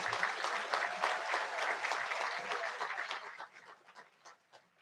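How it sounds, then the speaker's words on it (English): Applause rises from an audience at a spring master's hooding ceremony for Master of Science in Business Analytics graduates, dense and steady at first, then thinning and fading out near the end. "Let's have a round of applause for our Master of Science in Business Analytics graduates."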